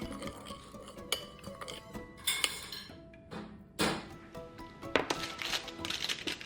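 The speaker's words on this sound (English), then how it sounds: "Mix well." A utensil stirs olive oil and garlic powder in a small bowl, making scattered light clinks and scraping taps against the dish, quiet and close, with gaps between strokes.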